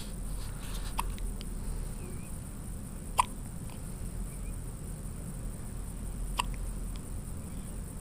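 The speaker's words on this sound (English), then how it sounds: "his first ever case of the hiccups" A baby boy's small hiccups, resting after a big meal, come as a few sharp, brief clicks spaced seconds apart, clearest at about 3 and 6 seconds, over a steady low hum with no talking.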